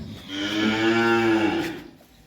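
A Red Friesian heifer lets out a single close, drawn-out moo lasting about a second and a half, swelling and then fading, with no talk over it.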